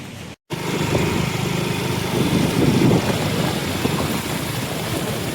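A motorcycle engine drones steadily while riding through leg-deep floodwater in Calumpit, Bulacan, a close, continuous buzzing hum with faint splashing texture after a brief dropout at the start.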